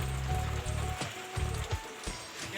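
Steady rain falls outside a house after a strong windstorm brought down a tree branch and tin roofing, a continuous close patter with a few sharper drip impacts and no voices.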